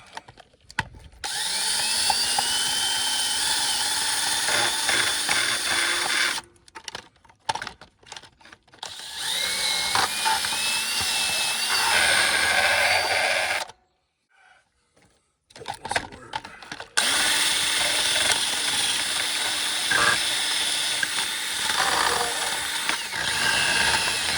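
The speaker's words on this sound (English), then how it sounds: "I'm going to go ahead and hack it up and hit it with a wire wheel" A wire wheel grinds rusty metal on a 1984 Corvette, a harsh whirring scrape running in long bursts broken by short pauses, with a whining pitch shifting as the tool loads and spins up.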